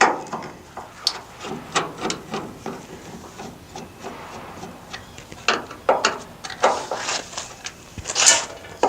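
Screwdriver backing out Phillips screws from the tail light of a 1989 Chevy K1500, giving soft close scraping, rubbing and clicking sounds that continue unevenly throughout.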